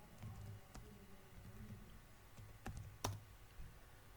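Someone types a file name on a computer keyboard, a few faint, quick key clicks in an irregular run over a low background hum.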